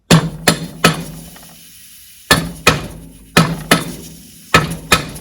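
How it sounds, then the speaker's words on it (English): Sharp metallic hammer strikes on the carrier of a Mercruiser outdrive lower unit ring out in uneven pairs and triplets, loud and close, each blow followed by a short ringing decay. "the hitting with the hammer tends to be paying off"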